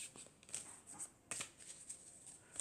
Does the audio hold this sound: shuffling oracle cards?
yes